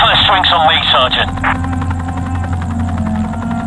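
A helicopter in the video game Anomaly Warzone Earth drones with a steady rotor thump and whine; a voice speaks over it at the start, then the chopper continues alone, close and loud.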